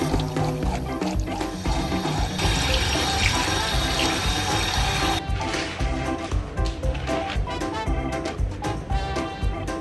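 Tap water runs steadily into a sink, loud and close, with splashing as a face is washed during a night skincare routine.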